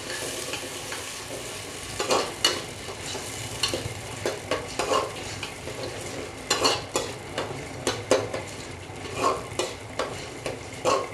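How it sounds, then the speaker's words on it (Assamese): A spoon stirs dal in a pan as it fries. The spoon scrapes and clinks in a steady rhythm over a continuous loud sizzle, with no voices. "আৰু দিম দালি আৰু এইখিনি অলপ চামুচেৰে লাৰি দিম"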